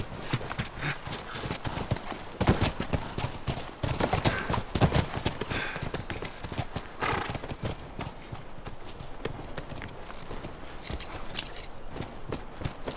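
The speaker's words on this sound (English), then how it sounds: "Come on, back to the horses." Horses walk in the video game The Last of Us, with steady rhythmic clip-clop hoofbeats close up running continuously at moderate loudness, plus an occasional snort.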